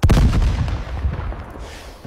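Loud, close explosive booms burst at the start and rumble on with scattered follow-up blasts in an AI-generated comedy scene, fading over about two seconds.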